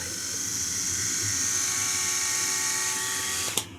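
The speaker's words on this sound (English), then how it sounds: "I have my 12 volt shaver" A steady 12 volt electric shaver buzz runs continuously with a bright whine in an RV, then cuts off abruptly with a small click near the end.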